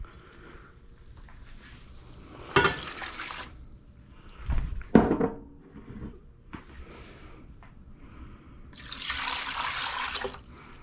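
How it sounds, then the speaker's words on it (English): Water is poured into a cooking pot while shrimp and grits are being made, with short splashing bursts of running liquid separated by quieter stretches and light kitchen clatter. "I'm gonna go ahead and add 6 cups of water."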